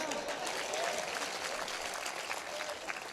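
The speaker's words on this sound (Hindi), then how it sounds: "प्रश्न सही हो तो ताली बजाओ।" Audience clapping at an outdoor comedy gathering at a ground, a dense, steady wash of applause from a large crowd, heard alone and fairly loud for a few seconds.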